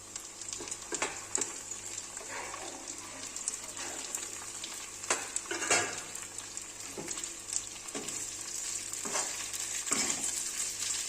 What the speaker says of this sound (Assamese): এইখিনি অলপ ভাজি লম কম জুইত সামান্য ভাজি লম